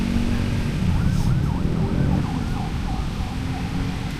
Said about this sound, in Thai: มีเสียงไซเรน